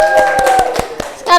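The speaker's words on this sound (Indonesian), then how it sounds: "Tepuk tangan untuk kita semua." A group claps in unison, five or six sharp, evenly spaced claps over a steady background tone, ending with a brief burst of voices.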